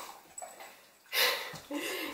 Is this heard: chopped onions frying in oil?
no